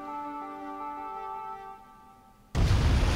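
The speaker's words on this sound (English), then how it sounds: "The geyser will go off as soon as the smoke disappears." A geyser in the video game Sky: Children of the Light erupts in a sudden loud, sustained rushing hiss of steam and water. It cuts in abruptly after a few seconds of soft, fading ambient music tones.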